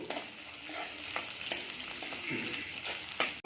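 Four green chilli pieces fry in a pan with a soft, continuous sizzle and faint stirring, quiet and close, ending in a brief clatter.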